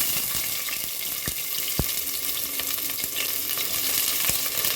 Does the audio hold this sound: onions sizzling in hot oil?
yes